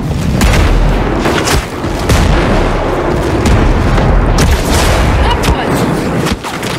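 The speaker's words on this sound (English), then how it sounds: "Mortars, get down now!" Mortar rounds explode in the video game Ghost Recon Breakpoint, a loud, dense barrage of booming blasts and crackling gunfire that pounds on almost without pause, with brief shouted voices mixed in.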